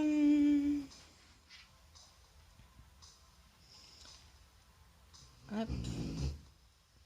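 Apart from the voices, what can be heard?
dog snoring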